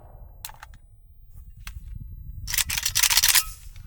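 An AK rifle with a muzzle brake fires 7.62 steel-case rounds outdoors, with a few sharp single cracks spaced apart, then a quick cluster of shots, moderately loud against quiet surroundings.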